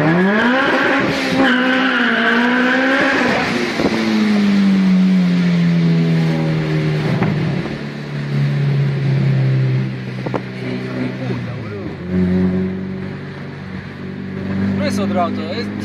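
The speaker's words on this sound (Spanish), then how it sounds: "Otro auto, son tres autos" Car engines rev and whine through rising and falling pitch sweeps as several cars race along a road, passing fairly close, with some tire noise and people talking throughout.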